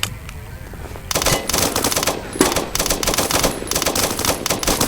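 Rapid automatic gunfire crackles loudly in the Roblox military shooter Blackhawk Rescue Mission 5, starting after a quiet second and continuing in dense bursts with short gaps.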